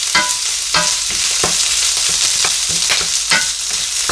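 Bamboo shoots, chicken liver and two small kaffir lime leaves are stir-fried for a holy basil dish, with a loud, close sizzle and rhythmic spatula scrapes and tosses repeating roughly every half second, no talking.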